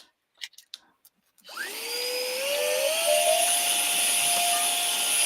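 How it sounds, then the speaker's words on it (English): Small vacuum built into an Optimus Prime toy starts after a few brief knocks, then runs as a loud, steady high-pitched whir whose pitch rises and holds, close by. "Wow, that vacuum is loud."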